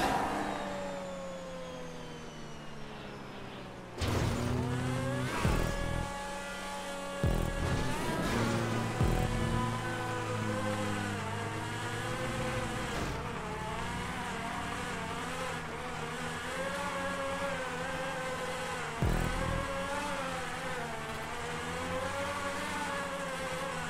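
A race car engine in Grand Theft Auto V revs hard on a looping, tube-style track, its loud, continuous whine rising and falling through repeated gear shifts for the whole stretch.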